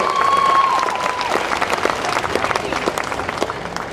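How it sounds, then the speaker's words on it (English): An audience at a rodeo pageant at a state fair in Wyoming claps enthusiastically, a dense burst of applause that starts strong and gradually thins, with a faint voice briefly over it. "Let's give them one more round of applause"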